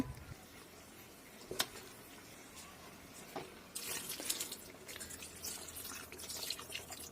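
Water poured into a pan of fried potatoes spiced with turmeric, chili powder, cumin, coriander and meat masala, a soft splashing hiss that swells midway and keeps bubbling, with a couple of sharp clinks before it.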